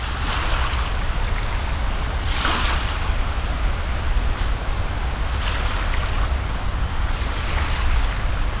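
Water surges and crashes against rocks at Perunthenaruvi in Pathanamthitta in repeated bursts over a constant roar, with wind buffeting the microphone.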